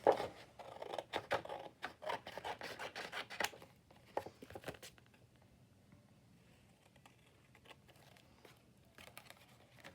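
Paper being cut out by hand with scissors at a craft table, a run of close, crisp snipping and rustling strokes that fades after a few seconds, leaving quiet room tone with a few faint later snips.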